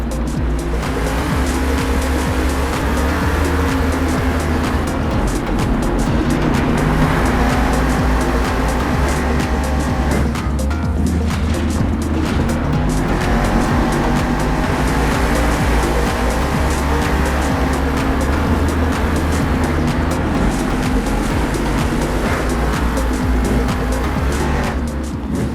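Two Monster Jam trucks, El Toro Loco among them, race head to head in a loud, continuous engine roar with revving surges and tire squeals, the crowd-filled arena noise staying dense and steady throughout.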